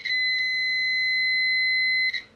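A handheld multimeter in continuity mode, probing a headphone jack, gives a steady high-pitched electronic beep that holds for about two seconds, with a short chirp near the start and a louder burst at the end.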